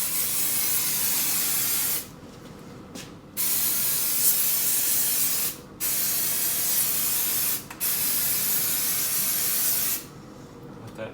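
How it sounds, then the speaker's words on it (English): Mold release sprayed from an aerosol can in a casting workshop, several long hissing bursts of about two seconds each with brief pauses between, close and steady. "I'm going to go ahead and use this mold release to spray all around it"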